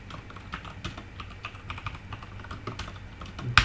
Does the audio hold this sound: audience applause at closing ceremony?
no